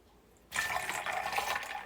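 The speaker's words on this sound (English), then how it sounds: "Then we're coming in with our carrot and ginger juice." Carrot and ginger juice is poured, starting abruptly after a brief quiet moment as a close, steady splashing stream of liquid filling a vessel.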